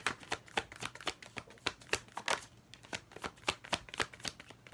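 Cards are shuffled and handled in a rapid run of crisp riffling slaps and flicks, close and fairly quiet, with no talking.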